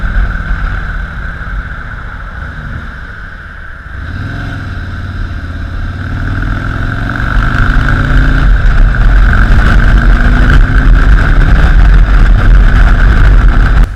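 A 2017 Harley-Davidson Street Glide Special with the Milwaukee 8 engine idling around 800 RPM, a loud close low rumble that dips briefly, then rises and holds a steady heavy throb, no talking.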